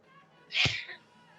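A single sharp sneeze bursts out close by at a pool tournament, brief and forceful, against a quiet background.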